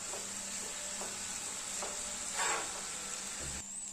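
Ivy gourd (kovakkai) frying in a pan with chili powder, giving a steady close sizzle throughout, with a few soft stirring scrapes and no talking.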